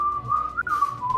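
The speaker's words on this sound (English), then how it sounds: "There's whistling." A single steady whistled note, wavering slightly in pitch, sounds close and clear from a player during an online tabletop roleplaying session, held without a break for about a second.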